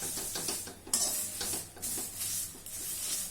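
Curry leaves roast in a pan over a medium flame while a spoon stirs them, giving light sizzling and crackling along with repeated scraping and clinking of metal against the pan, close up and with no talking.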